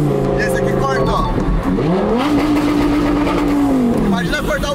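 A Lamborghini engine revs hard and bounces off the rev limiter, loud and close, with the pitch climbing, holding and then dropping, while someone talks over it.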